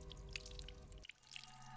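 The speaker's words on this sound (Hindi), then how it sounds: "बाथरूम में पानी बहने की आवाज आ रही है।" Water runs and drips in a bathroom of a closed house, a soft, steady trickle with small splashing drops, faint and heard alone without voices.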